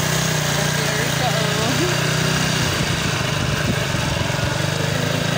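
Motorcycle engine runs steadily during a ride to a market, a constant mid-pitched drone with road noise, while people talk faintly underneath.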